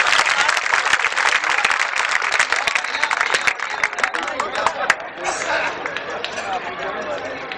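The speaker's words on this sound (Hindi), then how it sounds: "ताली बजा दीजिए एक बार जोरदार" Loud, dense applause from the audience at a Hindi poetry and comedy stage show, sustained clapping with crowd noise that thins slightly in the second half while voices mix in.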